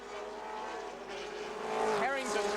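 Touring cars race at Symmons Plains in 1984, their engines droning as a steady blended roar that swells louder near the end, with a commentator talking over it.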